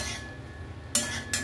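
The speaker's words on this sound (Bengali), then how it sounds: "একটু নেড়ে নিচ্ছি।" A utensil scrapes and clinks against a pan while stuffing is stirred, with two short bright metallic scrapes close up over a quiet background.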